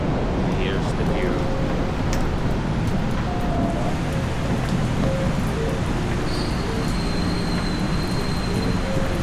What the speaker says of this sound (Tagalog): Lakas ng ulan. Lakas pa rin ang kidlat.